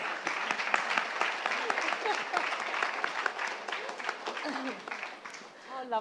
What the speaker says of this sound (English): this gentleman deserves a round of applause